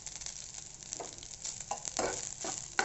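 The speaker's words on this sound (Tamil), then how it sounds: "ஸோ இந்த மாதிரி நல்லா ஈவனாக மிக்ஸ் பண்ணி எடுத்துக்கோங்க" Brinjal podi rice is tossed and mixed in a pan, giving soft scraping and stirring strokes over a faint, steady sizzle, with no talking.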